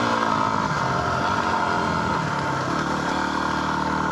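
A Yamaha Tenere motorcycle at Furry Creek runs steadily at idle or low revs, a continuous even engine hum heard close and alone for about four seconds with no talk.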